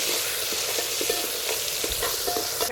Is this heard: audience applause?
no